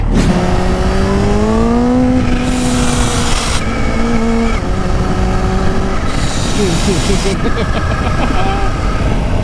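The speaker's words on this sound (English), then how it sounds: "is that the supercharger? That's awesome." Supercharged motorcycle engine revving hard, rising and falling roars with a high supercharger whine on top, loud and close, with people talking over it.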